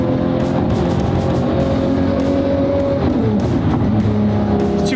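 A Porsche sports car engine drones loudly past on a street busy with other cars, a sustained close roar with shifting pitch and no talk.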